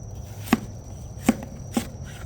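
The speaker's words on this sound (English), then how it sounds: "I don't know, maybe cut these into slices, I think" A knife cuts through pumpkin on a board for bacon pumpkin bread, three distinct chopping thuds spaced unevenly over a quiet room hum.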